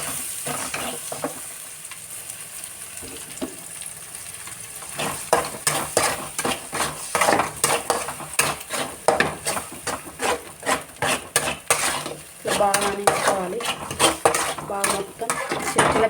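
A spoon stirs and mixes food in a pot on the stove, producing repeated scraping clacks in an irregular rhythm over a soft sizzle, growing busier midway, with occasional talking in the background.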